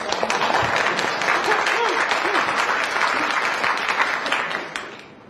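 Dense audience applause fills the room steadily for about five seconds at a business marketing talk, then fades at the end.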